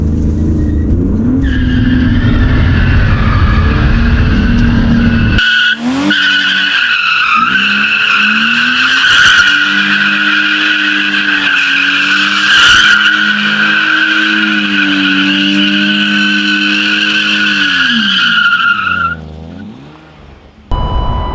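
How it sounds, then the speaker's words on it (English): A BMW E36 spinning donuts, its engine held at a steady high drone with continuous tire squeal and skidding, loud and close, easing off near the end. "And now it does donuts."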